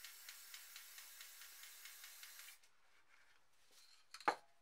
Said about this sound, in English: we're going to spray some black onto it.